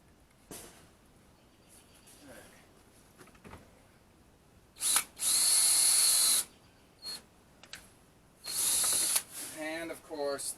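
A power drill drives screws to hang car radiator fans repurposed as exhaust fans on the side of a building: a long whirring burst of about a second and a half, then a shorter one, with faint clicks and handling noises between.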